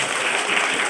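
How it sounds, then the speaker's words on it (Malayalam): Children, teachers and parents at a school magic show clap for two volunteers, producing a brief burst of crowd applause. "രണ്ടുപേർക്ക് നല്ലൊരു ക്ലാപ്പ് കൊടുത്തേ."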